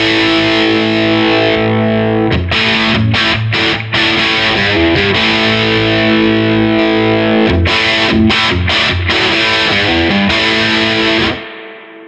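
Loud overdriven electric guitar through an MXR Super Badass Dynamic OD pedal in boost mode, playing thick distorted chords and rhythmic palm-muted chugs with short stops, then a final sustained chord that cuts off near the end.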